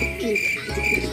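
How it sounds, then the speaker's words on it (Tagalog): Pigeons in a backyard loft in Labrador, Pangasinan, with soft cooing and a steady insect-like chirring at moderate level over a low background hum, no voices heard. "Ito yung mga kalapati ko."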